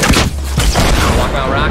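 Rapid video-game gunfire crackles in a dense, loud burst of overlapping shots lasting under two seconds, mixed with a player's excited talk.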